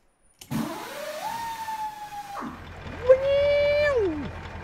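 A Peterbilt 379 truck with a Cat 3408E diesel is air-started: two rising, whining cranking bursts, the second louder and longer, close up.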